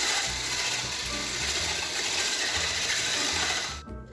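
An electric KitchenAid stand mixer beats an evaporated-milk ice cream mixture with a steady, close mechanical whir and rattle. It cuts off abruptly just before the end, with no talk.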